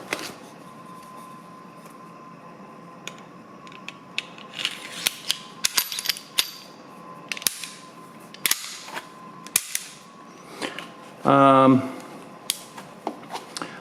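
Metallic clicks, snaps and ratcheting slide noises from a stainless Sig Sauer P220 .45 pistol being field-stripped, scattered close-up handling clicks with a brief louder grinding rasp near the end.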